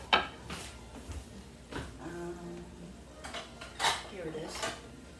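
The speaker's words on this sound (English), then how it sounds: "I'm gonna get one of my little plates over here. I'm gonna get my little spatula." A small plate and a spatula handled in a kitchen, a few quiet clinks and scrapes of ceramic and utensil spread over several seconds, with faint background noise.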